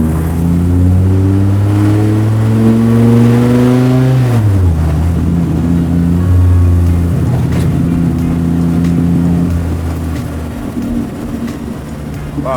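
A Ruffian Cars 800HP 9.0L V10 Plymouth hot rod roars loudly from inside as it's driven, engine revving up, dropping in pitch at a gear change, then pulling hard again.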